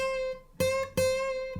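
Acoustic guitar string bend left ringing without muting in a blues solo: a sustained bent note, struck again twice, ringing close and clear, alone.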